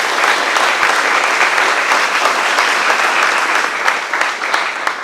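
An audience at a community center ribbon cutting gives a round of applause, steady dense clapping lasting several seconds at close range.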